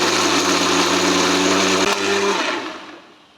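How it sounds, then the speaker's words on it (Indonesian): An old hand-me-down kitchen blender purees ingredients until smooth, a loud steady whirring motor roar that runs evenly for about two seconds, then winds down and fades out. "Baru kita blender sampai halus"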